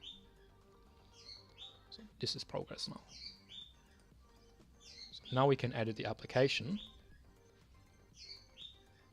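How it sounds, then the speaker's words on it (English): A pet bird chirps in the background of a room, repeated short high tweets scattered through the stretch, partly under a man's speech. "If you hear my bird in the background, I do apologize."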